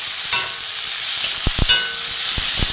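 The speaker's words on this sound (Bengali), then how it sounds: "পোস্তটা এর সাথে একটু ভেজে নেবো।" Poppy seed and mustard paste frying in hot oil in a pan, a loud steady sizzle up close with a few short stirring scrapes and knocks, no voices.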